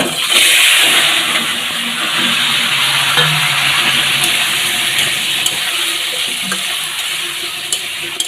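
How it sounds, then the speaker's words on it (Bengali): Man kochu (taro) hitting a hot kadai, a loud, steady sizzling hiss that slowly eases over several seconds, close up and with no voices. "মান কচুতে কড়াইতে দিলাম"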